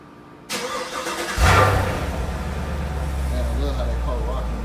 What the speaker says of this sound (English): Start the car with my remote start.